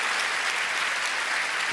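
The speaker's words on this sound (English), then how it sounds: "A round of applause for Liz Watson." Sustained audience applause at a Nobel Week Dialogue morning lecture, dense steady clapping filling the hall for under two seconds with no voices over it.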